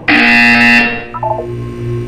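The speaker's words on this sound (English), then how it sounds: "When you hear the buzzer, look up at the ceiling" A harsh electronic buzzer in the Portal 2 video game, one loud sustained blare of under a second that cuts off and leaves a fainter electronic warble and hum.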